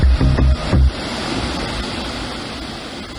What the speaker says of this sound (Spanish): Vean cómo va el sucio el río.